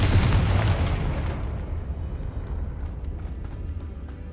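A loud Confringo fire spell blast bursts in Hogwarts Legacy, a heavy booming impact right at the start that rumbles and slowly fades away.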